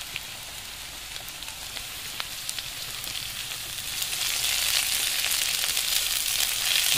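Crushed garlic and green chilies frying in hot oil, a steady crackling sizzle that swells louder partway through, with faint stirring taps, close by and without talk.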